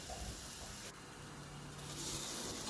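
Masala mixture roasting in a pan for mutton curry in a Kolhapur kitchen, a faint, steady sizzling hiss that brightens and swells slightly toward the end, with no talk.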